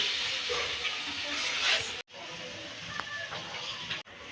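Chana dal sizzling in a spoonful of ghee for puran poli, a loud continuous close hiss with a few faint crackles, cut off by two abrupt brief silences.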